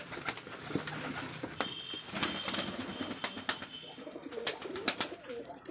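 Rajshahi giribaz pigeons at a pigeon farm give faint soft coos alongside scattered wing flaps and small rustling movements, all quiet and close by with no voices.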